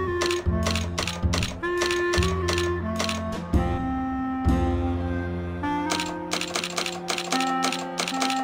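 A ticket printer mechanism in the Grim Fandango video game clatters in rapid ratcheting bursts with short pauses between runs, alongside a tonal melody, loud and close with no talk.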